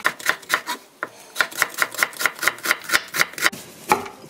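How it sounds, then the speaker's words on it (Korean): A knife cuts vegetables into julienne strips on a cutting board, about twenty crisp, close chops in a quick steady rhythm. "채를 썰어주세요."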